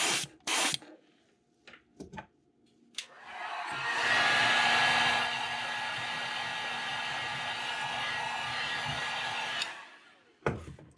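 A heat-setting tool blows hot air over fresh paint on a custom-painted Wiggle Wart fishing lure, a loud, steady airy roar lasting about six seconds, preceded and followed by sharp handling clicks and knocks.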